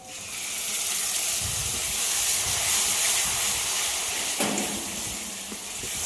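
Blended paste of two large tomatoes hits a hot pan of fried garlic for a mango chicken dish, giving a loud, continuous sizzling hiss that swells briefly partway through.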